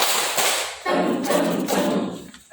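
Close, dense bursts of group clapping mark the 'tepuk toge' clap chant at a school activity, mixed with some voices.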